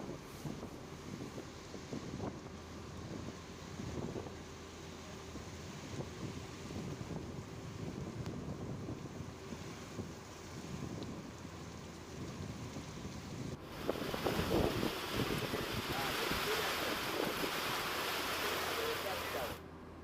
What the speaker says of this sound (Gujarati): ભારે પવન સાથે ધોધમાર વરસાદ વરસ્યો છે